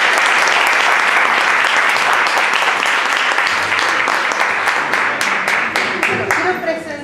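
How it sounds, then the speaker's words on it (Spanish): Audience at a Spanish linguistics and grammar conference panel applauding, a steady, dense burst of clapping that thins toward the end with some voices mixed in. "Bueno, un aplauso."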